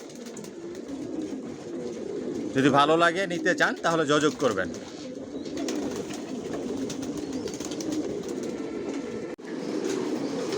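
Johnson-line racing pigeons in a loft give a steady low cooing murmur throughout, with someone talking over it for a few seconds.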